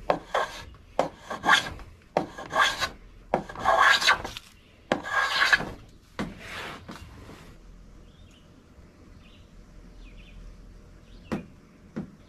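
A block plane shaves a wooden corner in a run of rhythmic rasping strokes, close and crisp, about seven passes that then fade into quiet workshop room tone with a faint knock.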